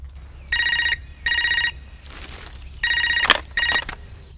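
An old-style telephone bell in a Tamil movie scene rings in four evenly spaced bursts, bright and close, with a short rustle or clatter between the later rings.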